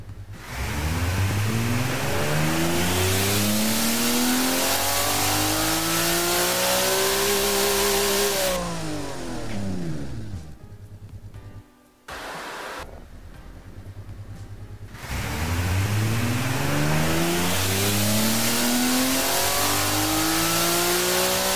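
A carbureted inline-six engine in the Automation car tycoon game revs on a dyno, climbing steadily in pitch to a loud peak, cutting out briefly, then sweeping up again in a second run.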